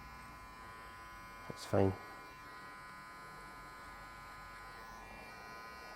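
An electric hair trimmer hums steadily and softly throughout a men's haircut, with a brief louder buzz as it works near the ear and a short spoken remark over it.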